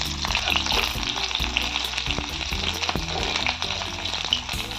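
Spices, including panch phoron, crackle and sizzle in hot oil, a steady dense frying hiss with small pops and occasional stirring clicks, close up with no talking.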